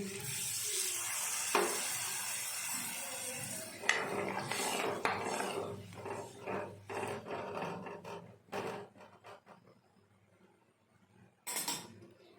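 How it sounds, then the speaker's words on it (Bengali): Water is poured into a pan of fried potatoes, raising a loud hissing sizzle that gradually settles, while a utensil scrapes and clatters against the pan as the mixture is stirred. "আলুটা ভাজা ভাজা হয়ে গেছে, এবার আমি জল দিয়ে দেব।"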